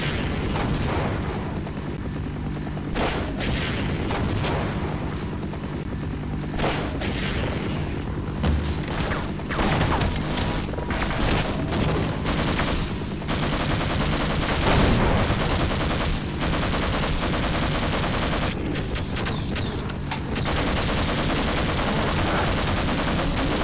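Half-Life 1 game gunfire: loud, dense volleys of rapid shots and heavy booms crowd the scene nonstop, with bursts and single blasts following each other closely and almost no pauses.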